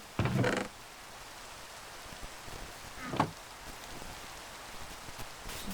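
Constant rain hiss in the video game StarCraft fills the background, broken by a couple of short knocking bursts, with no talking over it.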